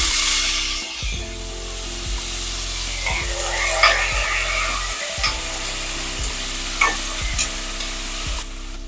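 Chopped tomatoes dropped into hot oil with mustard seeds, chana dal and curry leaves, giving a loud, steady, close sizzle that runs throughout with a few brief spatters and stirring scrapes.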